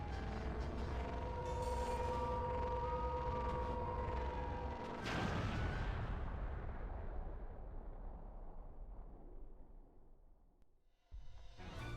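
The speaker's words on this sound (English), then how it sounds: "We've got cannons." Cannon fire from an airship battle in the video game Skies of Arcadia Legends: a sustained roaring blast over a droning tone, then one heavy boom that decays slowly into a long fading rumble, loud and without talk.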